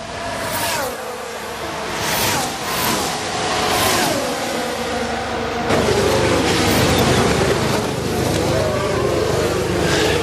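Formula 1 cars racing side by side down the start-finish straight at the 2020 Sakhir Grand Prix, a loud, continuous high-pitched engine roar with rising and falling whines as the cars pass, heard under a commentator's fast speech.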